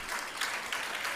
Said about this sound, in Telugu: వారి కొరకు ఒకసారి గట్టిగా చప్పట్లు కొట్టండి